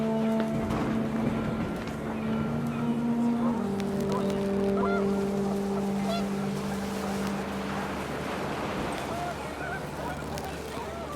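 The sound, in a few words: geese honking in video game What Remains of Edith Finch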